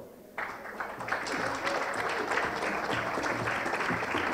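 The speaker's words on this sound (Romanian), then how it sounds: "să o aplaudăm" Applause rises from an audience at the U.A.R.F. awards gala, starting abruptly and holding steady as many hands clap together at moderate loudness.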